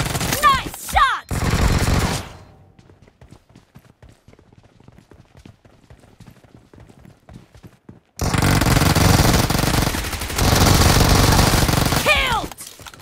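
Rapid automatic gunfire from the PUBG Mobile game on an iPad Pro during a gun-game team match comes in loud, close bursts at the start and again near the end, with a quieter stretch of scattered clicks between.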